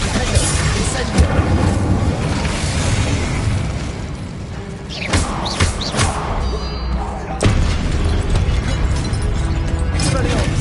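Rapid explosive spell blasts from Hogwarts Legacy combat, Confringo and Incendio among them: a dense, loud run of booms, pops and mechanical clatter, with sharper bursts near the middle and later on, over constant game noise.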